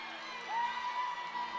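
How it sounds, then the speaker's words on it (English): A crowd at a college gymnastics meet between Alaska and BYU cheers and whoops, a brief burst of distant arena cheering over a sustained whistle-like tone. "Well, you just heard a massive cheer in reaction to the scores"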